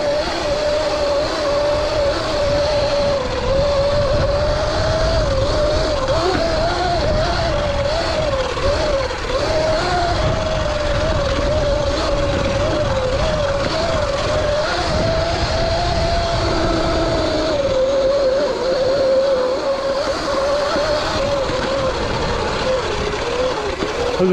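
A stock Surron X electric dirt bike rides through loose sand, its motor whine steady and close under continuous rushing wind and tire noise throughout.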